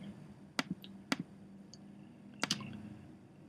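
A few sparse, crisp clicks from a computer keyboard as details are typed into an electronic medical record form, isolated taps in two small clusters over a quiet room hum.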